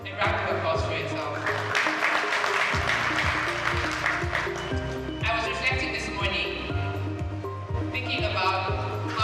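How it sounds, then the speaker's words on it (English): Sustained applause from an audience, a dense clatter of hands clapping that carries on for several seconds, mixed with voices and background music. "A round of applause for yourself."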